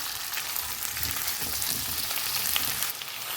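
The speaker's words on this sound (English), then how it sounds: "And just cook the veggies for about 2 minutes, stirring on medium to high heat." Vegetables fry and sizzle in a pot over medium-high heat for a one-pot rice and vegetable dish, a steady close crackle with soft stirring scrapes and no talk.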